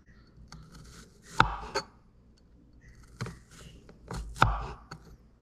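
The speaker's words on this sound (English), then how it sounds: "So we just get our garlic. We're gonna just chop just the thin slices." A knife slices garlic on a cutting board in a few sparse, distinct knocks with soft crunches between them, quiet and close, with faint throat noises and no talking.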